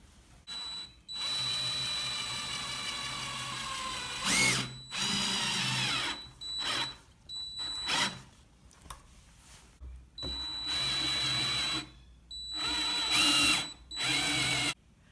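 A power drill drives 2.5-inch deck screws into a wooden picnic table during assembly, with several loud whirring bursts of a few seconds each, broken by short pauses and some softer mechanical handling noise in between.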